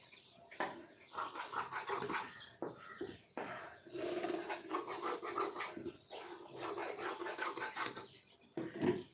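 Scissors cutting blouse fabric, in repeated close rasping snips and rubbing bursts with short pauses between cuts.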